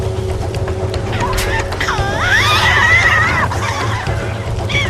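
Tasmanian devils in a forest let out a loud, wavering screeching cry in the middle of the stretch, rising and falling like a whinny over a constant low background hum.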